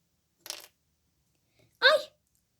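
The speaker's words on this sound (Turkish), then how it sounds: "Anne kaşık düştü." A small spoon drops in a home kitchen, giving two bright metallic clinks about a second and a half apart, the second louder, against near silence with no talk.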